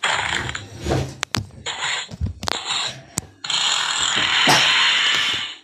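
Mechanical whirring bursts of a drill in the game Henry Stickmin prison escape, revving in short spurts with clicks between, then a long sustained grinding whine near the end.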